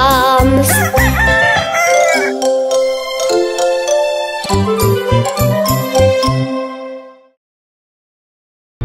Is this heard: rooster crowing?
yes